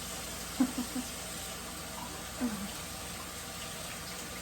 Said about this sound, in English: Give my hands a quick rinse here